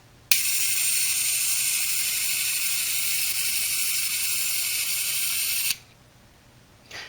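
A 1988 motorized G.I. Joe action pack toy runs its sweeping mechanism, giving a steady, loud, high-pitched whirring buzz with no breaks for about five seconds, then stopping abruptly.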